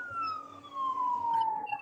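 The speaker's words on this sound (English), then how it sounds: "I heard a siren in the background" A siren wails in the background, a single long descending tone that sounds distant and moderately loud, with faint voices and room noise underneath.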